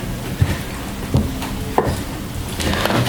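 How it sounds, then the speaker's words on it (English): Fork scraping and tapping against a bowl while mixing pizza dough at home, with a few sharp knocks spread irregularly among soft rustling, close and fairly quiet with no talk. "we're actually going to start to mix that dough together"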